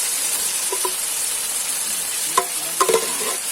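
Pork and onions sizzle steadily in a hot pan at an outdoor picnic, a constant bright hiss broken by a few clinks of a utensil stirring.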